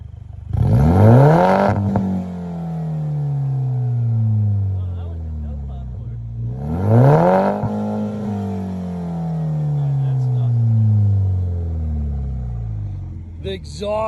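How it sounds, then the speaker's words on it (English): A car exhaust revs hard twice, each blip climbing quickly then falling away in a long, deep, rumbling decay, loud and close, with faint crackles between the revs. "So that's what the exhaust sounds like."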